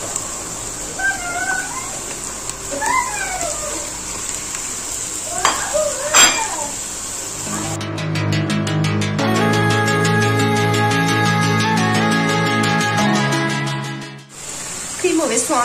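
Minced meat with onions is stirred in a hot pan, first a few scrapes and clinks, then a dense, loud sizzle that swells for several seconds before cutting off.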